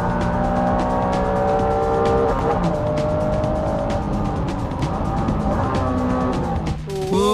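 A Honda NSX-R and a 400-horsepower Dodge Viper race on a circuit, engines roaring loudly together with pitches climbing and dropping through gear changes, tyres squealing briefly, and a sharp shift near the end.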